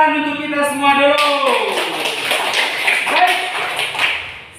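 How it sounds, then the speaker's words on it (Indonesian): A school class claps hands together in a short burst of close, crisp claps that follows a sung or chanted phrase, with voices continuing over the clapping. "Untuk itu tepuk tangan untuk kita semua dulu."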